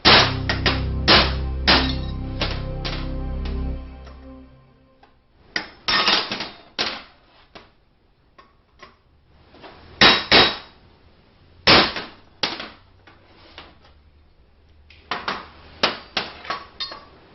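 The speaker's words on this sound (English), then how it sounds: "I'm here using my bushing cutter" Sharp metallic hammer strikes drive a transmission bushing out from the rear of a Ford CD4E automatic transmission with a bushing cutter, coming in rapid bursts of close, loud clangs separated by short pauses.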